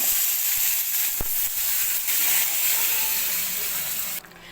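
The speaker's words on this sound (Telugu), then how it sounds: "2 ఉల్లిపాయలు 2 టమాటాలు పేస్ట్ చేసింది గ్రేవీని దీంట్లో వేసేస్తున్నా" A paste of onion and tomato hits a hot pan for a sweet corn curry and sizzles with a steady, loud hiss that runs throughout, then drops away abruptly near the end.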